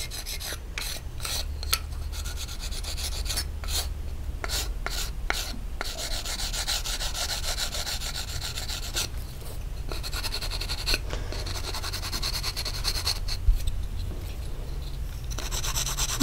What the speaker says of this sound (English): now that I've used the coarse grit, now I'm going to move on to something a little bit softer, just to soften it up a bit